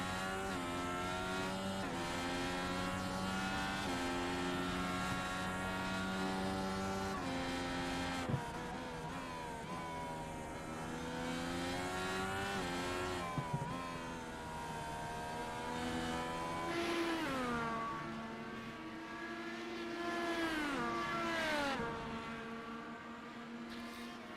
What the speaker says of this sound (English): get a much better sense of the speed in these cars from this cockpit view